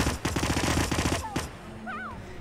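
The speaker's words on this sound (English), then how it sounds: "Just shooting." Rapid machine-gun bursts of gunfire in the Hitman video game, loud and close, stopping after about a second and a half and followed by whistling tones.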